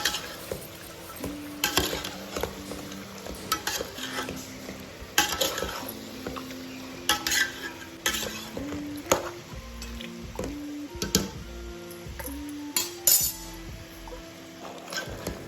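Green chicken masala curry being stirred in a pan, with repeated metal spoon clinks and scrapes against the pan over a soft sizzle, steady and close for the whole stretch, no talking.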